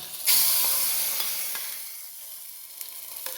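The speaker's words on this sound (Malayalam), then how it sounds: "നമ്മുടെ കറിയിലേക്ക് കാച്ചി ഒഴിച്ചു കൊടുക്കാം" Hot tempering with curry leaves and a pinch of fenugreek powder is poured into a bitter gourd curry, setting off a loud burst of sizzling that slowly fades into a softer crackle with a few pops.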